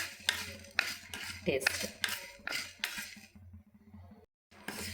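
Cumin and spices being dry-roasted in a pan for temple-style tamarind rice powder, stirred with a metal spoon that scrapes and clinks against the pan in quick irregular strokes, close up, with a brief spoken word near the end.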